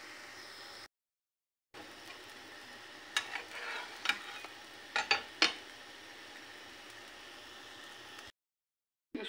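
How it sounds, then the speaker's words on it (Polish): A steady sizzle of pancake batter frying in a pan, with a few sharp clinks of a utensil against the pan midway through. "No i usmażę parę naleśników."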